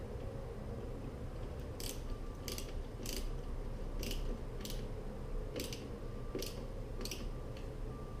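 A clamp is tightened on the aftermarket cold air intake of a Ford Fusion, giving sharp, regularly spaced ratcheting clicks over a steady low hum in a garage.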